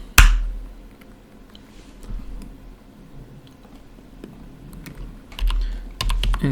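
Someone types a VTP password on a computer keyboard, with a sharp knock at the start, then a few scattered key taps and a quick burst of keystrokes near the end.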